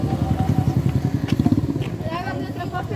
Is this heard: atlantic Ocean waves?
no